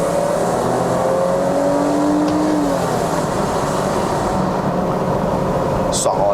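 A BMW E39 523i sedan drives up the hill road to Genting in Malaysia, its engine holding a steady, loud drone heard from inside the cabin, with a voice speaking at times.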